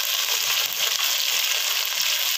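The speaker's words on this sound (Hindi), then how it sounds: "अब इसमें ये सब्ज़ी डाल देंगे और इसको भी साथ फ्राई करेंगे।" Mixed vegetables tossed into a pan of golden-fried onion sizzle in a steady, dense hiss of hot oil, close and continuous with no voices.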